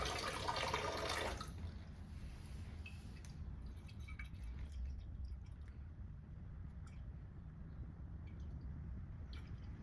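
Water from a pipe in a Reynolds flow experiment pours into a collecting container, a faint steady trickle and splash that follows a brief louder rush at the start.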